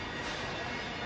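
A Class 380 electric train at Glasgow Central station gives off a steady, fairly quiet mechanical roar and rumble with no talking.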